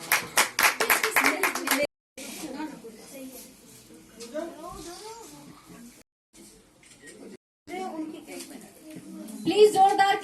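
An audience claps at a women's award ceremony in Chandigarh, a brisk burst of many hands for about two seconds before a voice speaks over the room, with a few scattered claps returning near the end.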